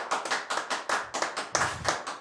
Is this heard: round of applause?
yes